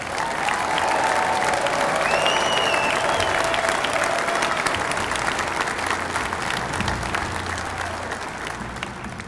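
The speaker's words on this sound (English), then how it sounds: "Let's thank our hundreds of volunteers with a round of applause." An audience at the National Veterans Golden Age Games applauds volunteers with sustained, dense clapping that holds steady and then gradually tapers off near the end.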